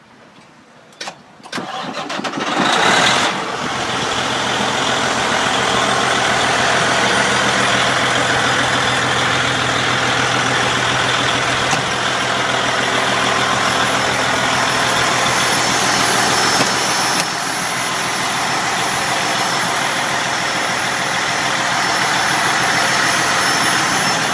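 A 2005 Western Star 4900SA truck's engine cranks and fires, then settles into a steady, loud diesel idle that continues evenly with a faint high whine above it.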